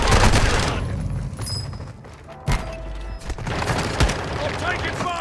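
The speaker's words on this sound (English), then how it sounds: "I'm taking fire!" Gunfire in a video game: a loud burst of rapid shots at the start, then scattered heavy single shots and thuds, close and sharp, with voices mixed in among the shots.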